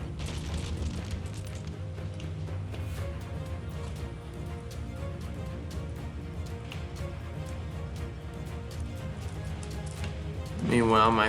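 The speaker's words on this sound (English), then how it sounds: "Artillery is coming in." Artillery fire in the Empire: Total War strategy game, a continuous rumble of distant cannon booms and battle noise with scattered sharp cracks, swelling louder at the end.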